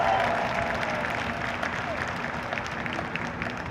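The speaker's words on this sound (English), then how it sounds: "So give them a cheer," A stadium audience at a university marching band performance cheers and applauds for the game day staff, a steady wash of clapping and crowd noise throughout, fairly distant and even.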